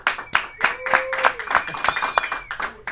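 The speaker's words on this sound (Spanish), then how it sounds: "Así que mi gente, todo el mundo en el estudio me ayuda dando un fuerte aplauso a Adrián Ibarri." A studio audience applauds in loud, distinct bursts of clapping with uneven rhythm, close by, while a sustained musical tone and some voices run underneath.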